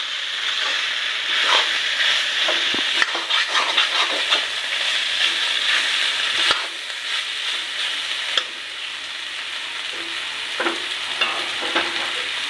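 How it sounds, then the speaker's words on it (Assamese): Mixed vegetables with potatoes and pulses fry in a pan with a loud, continuous sizzle and hiss, broken by occasional stirring scrapes. No voices are heard. "তৰকাৰীখিনি অলপ সিজিছে, পুৰা ভজা গৈছে।"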